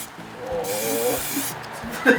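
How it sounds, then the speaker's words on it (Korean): Steady hiss of spray paint being sprayed onto an ostrich egg, a continuous close spray that ends with a small clatter. "마무리는 스프레이를 이용해 가지고 마무리 해줄게요"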